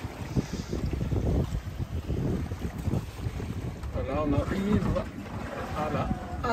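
Heavy wind buffeting the microphone aboard a sailboat rolling in waves off the coast of Turkey, with water sloshing and rushing against the hull, and a voice speaking briefly partway through.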